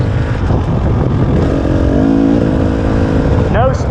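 A fuel-injected 2019 KTM 300 XC-W TPI two-stroke dirt bike engine runs and revs with a rising tone near the middle. It is close and loud, with a rider's voice over it.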